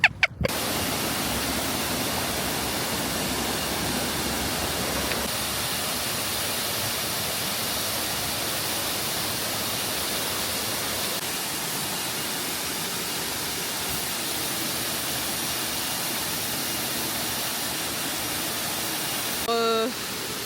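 A waterfall in Cambodia roars as a loud, unbroken broadband rush, steady throughout with a short thump at the start.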